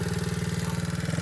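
A dirt bike engine runs steadily at close range, a throbbing, pulsing idle with an even, rapid beat.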